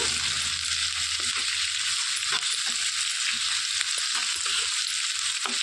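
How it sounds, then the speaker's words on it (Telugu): Thinly sliced onions and chana dal fry slowly over a low flame, giving a dense, even sizzle that holds steady and close for the whole stretch, with faint soft ticks of bubbling oil beneath. "సిమ్లో పెట్టి చక్కగా నిదానంగా వేయించుకోవాలండి"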